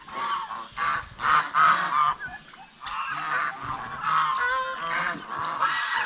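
Turkeys on a farm calling repeatedly in loud, honking bursts, several birds overlapping nearby with a few short pauses, no talking.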